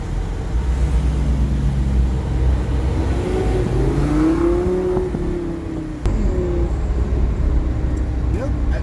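A Final Edition Lamborghini Gallardo accelerates hard, its engine note climbing through a rising, rumbling roar that stays loud and close, dips briefly, then picks up again with a sharp shift.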